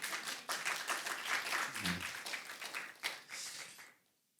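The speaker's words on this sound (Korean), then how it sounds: "우리 박수 한번 보냅니다." A church congregation gives a round of applause during a Sunday service. Clapping fills the room at a fairly even level for about four seconds, then stops abruptly into near silence.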